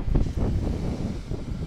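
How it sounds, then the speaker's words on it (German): Wind blusters against the microphone in low, uneven gusts at 9 degrees, strongest at the start and easing slightly afterward. "Es sind 9 Grad, aber sehr windig."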